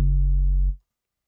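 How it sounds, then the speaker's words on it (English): Saturated sub bass in music production holds as a steady, loud low tone with added distortion harmonics, then cuts off sharply partway through, leaving silence. "that's adding a slight bit of distortion to your sub bass"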